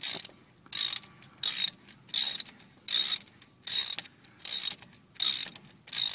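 A ratchet loosens the lower brake caliper bolt on a 2004 Chevy Avalanche front brake job, giving nine evenly spaced bursts of rapid clicking, close and loud, separated by short silences.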